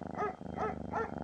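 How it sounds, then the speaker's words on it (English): A dog makes three short, rough vocalizations in an even rhythm, half growl and half whine, at moderate volume. "Dog."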